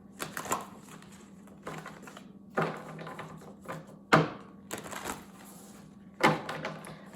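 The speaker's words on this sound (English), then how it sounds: "I hate shuffling these cards, Libra." Several bursts of riffling card noise, each a quick papery flutter, separated by brief pauses; close and fairly quiet with no talking.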